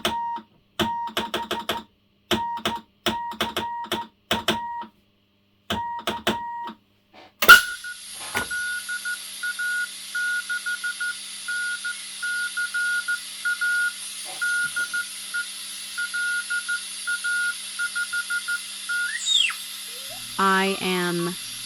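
Morse code call signs from a WW2 agent radio: short groups of beeping tones in a clipped rhythm, followed by a sustained steady tone and hiss, with a brief rising whistle near the end.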